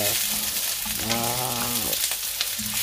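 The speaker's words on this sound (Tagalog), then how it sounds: "nagisa na po tayo ng sibuyas, bawang, luya at saka" Onion, garlic and ginger sauté in a pan for coconut-milk mackerel, making a close, steady sizzle. A brief voice rises over it midway.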